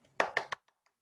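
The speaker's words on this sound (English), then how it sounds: "And let's give them a round of applause." A few hands clap over a Zoom call to applaud contest speakers: three quick, close claps, followed by faint, sparse taps and then near silence.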